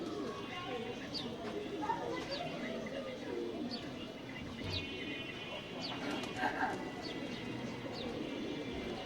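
Hungry pigeons coo repeatedly around their morning feeding on a winter morning, soft overlapping calls close by over steady background noise, with faint chirps and a brief wing flutter mixed in.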